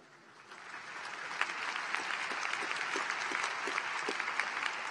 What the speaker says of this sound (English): How about a big round of applause for all the gathering?